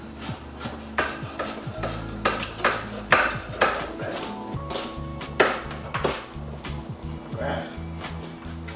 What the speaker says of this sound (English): I'm going to mince this one up real quick.